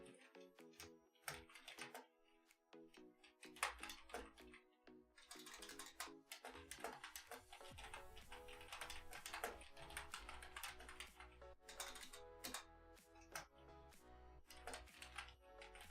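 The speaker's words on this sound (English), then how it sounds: "Hang on, I'm almost done typing it." Rapid typing on a computer keyboard clatters in uneven bursts of key clicks, close and fairly quiet, with a faint low hum in the background partway through.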